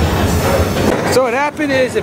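A freight train with tank cars rolls through a Union Pacific hump yard in Houston, its low rail rumble running steadily under someone talking nearby.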